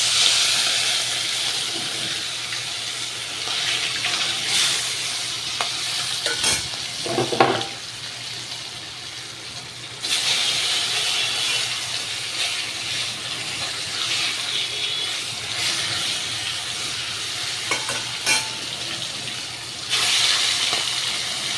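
Large pieces of katla fish sizzle steadily in hot oil, a loud continuous frying hiss with occasional pops and brief stirring or handling noises, no talking.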